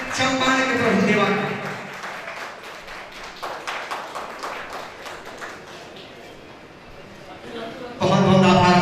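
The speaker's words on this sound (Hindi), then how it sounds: "जोरदार तालियों से स्वागत करें विश्वजीत चंपारण के प्रभु देवा।" An audience at a national award ceremony claps in a scattered, steady patter between stretches of loud music, which swells again at the end.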